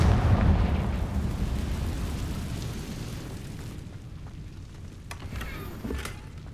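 An explosive spell bursts in a fantasy wizarding game, opening with a loud booming blast that rumbles and fades into debris and crackling, followed by a few sharp pops.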